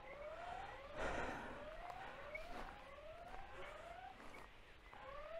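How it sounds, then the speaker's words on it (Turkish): A 4G solar security camera's siren gives a repeated rising electronic whoop, cycling steadily every half second or so, fairly faint with some background noise. "O beni takip etmeye devam ediyor ve siren çalmaya da devam ediyor."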